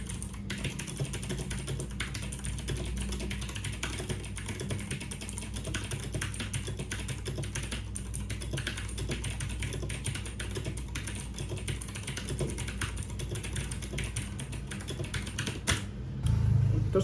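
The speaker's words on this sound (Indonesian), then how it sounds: "Dan ya, ini Otemu Blue mungkin buat suaranya kayak gini." Steady, fairly quiet clicking of a K552 TKL mechanical keyboard with Otemu Blue switches being typed on, a continuous run of crisp keystrokes with a louder knock at the end.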